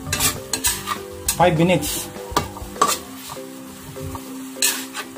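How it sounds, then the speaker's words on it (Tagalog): Horse meat tapa and garlic frying in a pan, sizzling steadily while a utensil stirs and scrapes, with clinks against the pan and a brief spoken remark. "nagpiprito na siya, atin natin haluhaluin para mabalance yung lasa at maluto na rin yung ating bawang para lalong sumarap"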